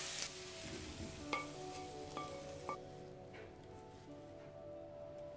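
Vegetables for a vegetable curry sauté in a pan with a soft, steady sizzle, broken by a few light clicks of a utensil against the pan early on, all quiet and close.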